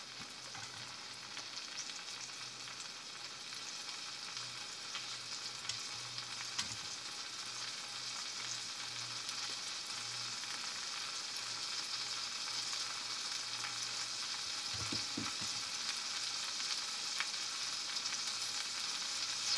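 Shrimp fry in hot garlic parsley butter with a steady, close hiss of sizzling that builds slightly over time, a couple of soft utensil knocks near the end and no talking.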